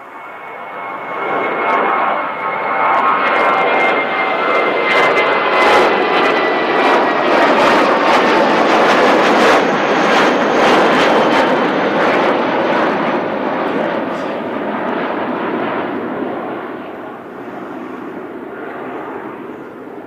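An aircraft at Christchurch airport in strong wind roars loudly for about twenty seconds, its engine swelling up, holding steady, then tailing off into the distance, with gusty wind noise mixed through and no voices.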